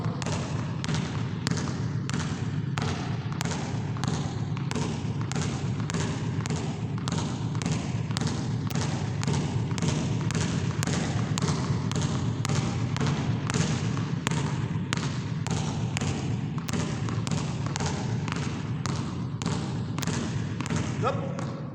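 A basketball is dribbled with the left hand during a youth ball-handling drill, giving a steady, quick run of firm thumps that continues without a break.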